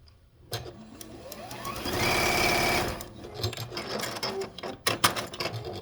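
A home sewing machine stitches rows of a quilt block together, a steady mechanical whir for about a second in the middle, framed by shorter bursts of handling noise and clicks.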